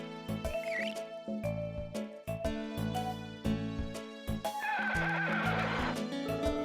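Horses in the video game Harvest Moon: Sunshine Islands whinny and neigh as synthesized game sounds, loud and close, repeated in bursts over bright chiptune-style music, with no talking.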